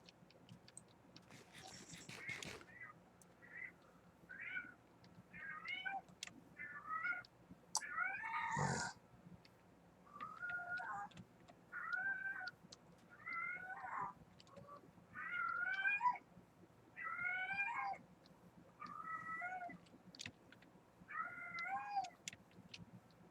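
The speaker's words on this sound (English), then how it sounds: "both of my cats are very loud right now" Two house cats meowing loudly and repeatedly, a long run of drawn-out, wavering calls at a fairly regular pace, with a sharp knock and faint ticking in the quiet background.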